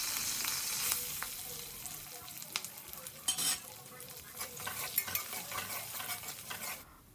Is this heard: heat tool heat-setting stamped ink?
no